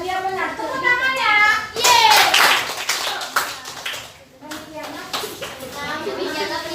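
A classroom of students claps hands in bursts, mixed with children's voices talking and chanting, the clapping rising sharply in the middle before breaking off and resuming more loosely.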